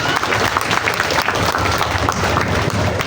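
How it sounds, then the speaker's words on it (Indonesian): An audience claps for a religious teacher at a Quran completion ceremony, a steady, dense burst of applause close by, filling the whole stretch without pause. "tepuk tangan dulu untuk Ustaz."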